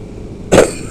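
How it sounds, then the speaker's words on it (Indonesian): A single short, loud cough from a person riding a motorcycle at night in Kuningan, West Java, bursting out over low road and engine rumble, then fading. "Aduh sorry, ini batuk belum sembuh-sembuh"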